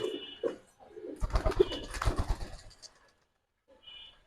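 Pigeons in a loft, including silver, army and coloured breeds, coo nearby in soft repeated calls with a short flutter of wings, then fall quiet before one more low coo.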